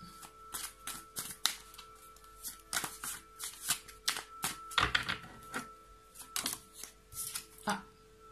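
Romantic tarot cards shuffled by hand in a run of crisp riffling bursts and soft card slaps, close up and fairly quiet, with a voice speaking at times between the shuffles.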